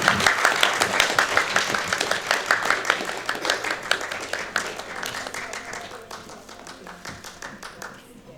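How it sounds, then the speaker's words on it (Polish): Hearty applause and clapping from an audience at a cosplay contest at a convention, rhythmic and loud at first, then gradually fading, with voices mixed in. "gromkie, gromkie, gromkie brawa"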